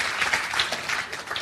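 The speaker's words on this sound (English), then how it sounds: "Give him a big round of applause." Applause from a classroom or workshop group as a participant is congratulated for answering first, a steady patter of clapping lasting about a second and a half with no talk over it.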